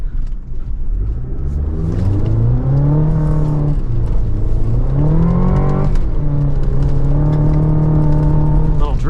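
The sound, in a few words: 2024 GMC Canyon AT4X pickup drifting off road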